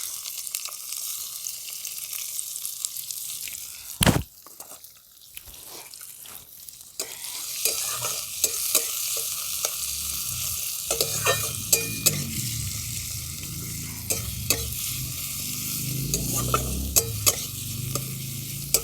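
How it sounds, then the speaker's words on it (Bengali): Chopped onions hit hot oil for a village-style sambar, first a sharp burst, then a steady loud sizzle with frequent clinks and scrapes of stirring, close by and without talk. "তেলটা গরম হয়ে গেছে এরপর দিয়ে দিচ্ছি আমি কেটে রাখা পেঁয়াজ"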